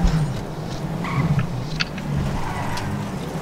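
A steady car engine drone in the video game GTA V runs throughout with slight revving swells, loud and close, plus a few brief sharp clicks on top.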